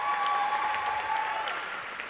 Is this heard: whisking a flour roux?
no